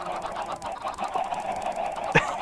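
Video game chickens from the Minecraft FTB mod pack cluck in short, soft bursts, several birds overlapping at moderate distance, with one sharper squawk near the end.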